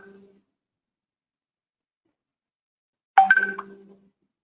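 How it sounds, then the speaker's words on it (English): A WhatsApp notification on a computer gives one short, bright chime, clear and close, that rings out and fades over about a second after near silence. "I'm sorry for all the notifications from WhatsApp."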